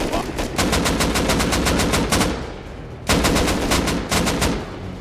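An AK rifle in the Rust video game fires loud, rapid automatic bursts up close, two long strings of shots split by a brief pause.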